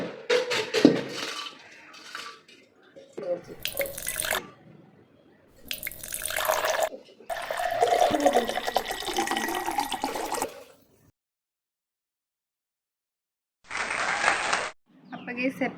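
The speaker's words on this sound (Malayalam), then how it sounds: "നമുക്ക് അരി കഴുകാം." Rice being washed in a kitchen under a running tap, with bursts of splashing, rushing water broken by pauses and silent gaps, and a voice talking at the start.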